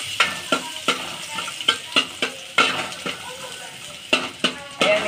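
Garlic and green chili sizzle in a pan, a steady fry broken by repeated sharp stirring scrapes about every half second, close and fairly quiet.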